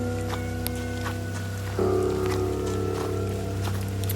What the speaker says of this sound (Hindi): एकदम फॉग ही फॉग और बारिश हो रही है।